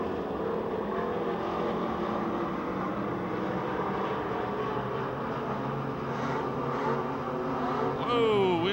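Race cars roar around the oval at Pennsylvania Motor Speedway near Pittsburgh, a continuous dense engine drone from a pack of cars with rising and falling pitch as they pass, loud and steady throughout.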